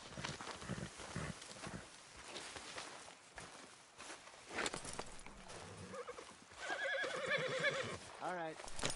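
A horse in the video game Skyrim gives a loud, shaky whinny near the end, after a stretch of hoof clip-clop and game ambience, with people talking over it.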